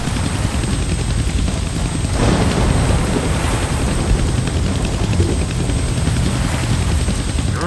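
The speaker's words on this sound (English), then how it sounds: "I can't kill that chopper with my guns, but I can scare him." Rotor chopping of an enemy helicopter in the Deadpool video game, loud and steady throughout, mixed with dense game noise and a brief surge in the middle.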